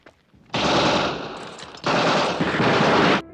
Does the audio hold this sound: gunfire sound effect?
yes